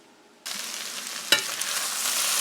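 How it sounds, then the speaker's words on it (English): Breakfast frying in a pan, a sudden burst of loud sizzling that starts abruptly and holds steady, with a stirring scrape partway through, close and with no talking. "so now we're just stirring and cooking"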